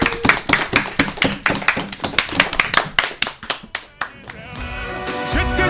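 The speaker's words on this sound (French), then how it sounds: "Applaudissements s'il vous plaît." Applause from a radio show audience: a run of sharp, fast handclaps that crest and fade, giving way after about four seconds to a quieter, denser wash of clapping.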